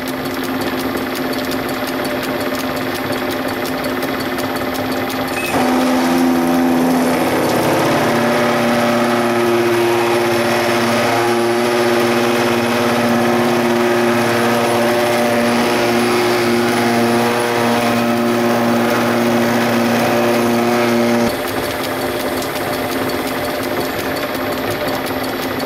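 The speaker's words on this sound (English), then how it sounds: "I'm going to drill that about 16 millimeters from" A drill bores a hole about 16 mm from the point of a safety valve part, likely on a lathe or mill in a small workshop. A steady loud machine drone with harmonic tones runs for about fifteen seconds, with quieter motor hum before and after.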